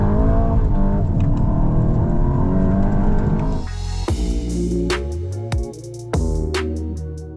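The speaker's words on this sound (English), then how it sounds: "Put it into the S mode, hit one of the paddles, manual, and floor it." A 2025 Volkswagen Golf GTI hot hatch in sport mode with manual paddle shifting, engine revving hard and climbing through gears with sharp shift breaks, loud and close, with no talking.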